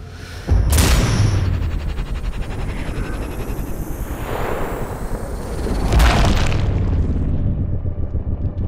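Heavy mortar explosions in the video game Sniper Ghost Warrior Contracts 2, two deep booms about five seconds apart, each with a loud rumbling tail, heard alone.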